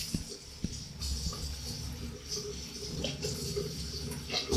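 Tap water running into a sink in a newly built two-bedroom house in Madurai, a steady splashing flow with a few small clunks, heard close by.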